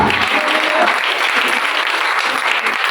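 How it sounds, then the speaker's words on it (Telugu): A church congregation claps hard and fast together in a loud, sustained burst of applause filling the room, with a voice faintly beneath it. "గట్టిగా చప్పట్లు పెట్టి ప్రభువు నామమును ఘనపరచు."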